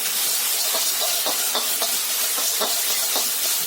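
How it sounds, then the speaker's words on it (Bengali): Egg hakka noodles fry in a pan with tomato ketchup, red chili sauce and soy sauce, giving a loud, close, continuous sizzling hiss. Rhythmic scraping stir strokes recur every half second or so. "এবার খুব ভালোভাবেই ফ্রাই করব।"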